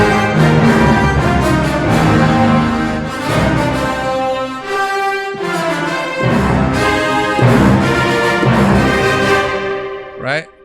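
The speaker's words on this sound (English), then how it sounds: "That's the epic brass and string patch" Layered orchestral sample patches, epic brass stacked with short staccato strings, play a loud, dense chordal passage with rhythmic swells and brief dips before a final sustained hit.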